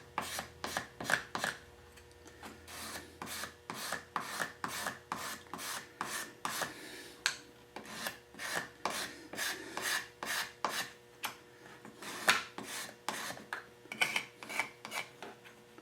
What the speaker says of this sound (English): Let me get a little bit off of that with a, I'll just use a scraper.